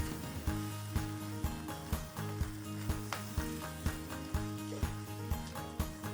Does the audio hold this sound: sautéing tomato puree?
yes